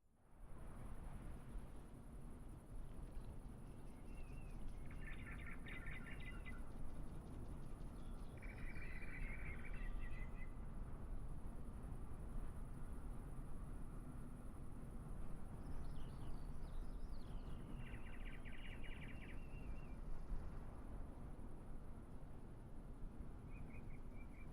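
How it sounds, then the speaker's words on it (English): Birds chirp in short repeated bursts over a steady hiss and low drone of ambient environment sound in Microsoft Flight Simulator 2020, faint and distant, with insect-like trills and no talking. "I'm hearing birds"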